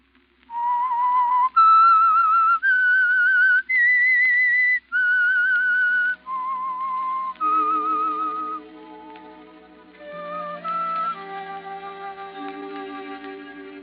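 A whistled radio theme tune serves as the signal for The Whistler mystery program: a clear, solo melodic whistle in sustained stepped notes, followed by softer orchestral tones underneath.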